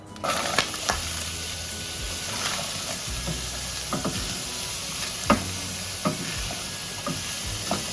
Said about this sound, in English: So I'm going to cook these onion and the carrot until they are soft.